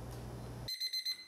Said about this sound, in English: Every morning when the alarm goes off, it's really difficult to get up